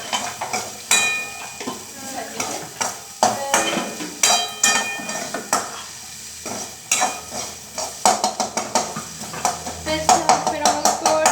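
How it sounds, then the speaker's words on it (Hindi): Salt being stirred into food frying in a pan, a steady series of scraping, clanking strokes of a spoon against the pan over a soft sizzle, close and fairly loud. "फिर हम लोग इसे मिक्स कर रहे हैं"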